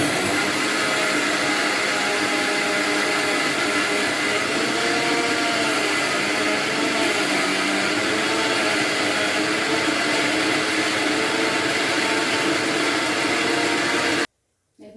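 Mixer grinder grinding grated coconut, a loud steady motor whir with churning texture running continuously for about fourteen seconds before cutting off abruptly.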